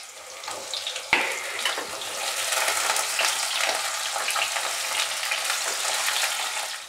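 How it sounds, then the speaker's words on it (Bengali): Potato pieces fry in oil tempered with panch phoron, a close, steady sizzle that flares with a sharp hiss as they drop in, then continues with occasional stirring clatter. "এবার আমি আলুগুলো দিয়ে দিলাম। আলুগুলোকে একটু ভেজে নিতে হবে।"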